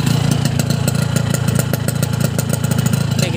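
STIHL two-stroke chainsaw engine revs steadily and loudly up close, with a rapid buzzing rattle that holds throughout.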